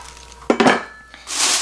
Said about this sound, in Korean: 자, 이제 커다란 냄비 속에서요.